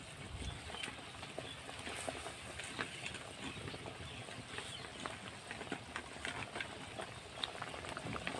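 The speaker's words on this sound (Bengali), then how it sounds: "ঝোলটা ভালোভাবে ফুটে গেছে" Curry gravy for kakrol (spiny gourd) simmers at a rolling boil in a pan, a faint, steady bubbling and pattering that carries on evenly throughout.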